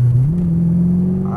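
An Audi R8 sports car pulls hard at full throttle, its engine note climbing in pitch then holding a steady loud drone from close by, with no one talking.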